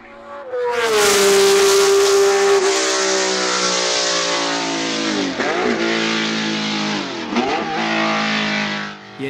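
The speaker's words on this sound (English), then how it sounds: "It has the proverbial Ferrari 12-cylinder whine." A Ferrari 312PB race car's 12-cylinder engine screams with a loud, sustained high-pitched whine, rising through revs with a couple of brief dips as gears change, close and alone without talk.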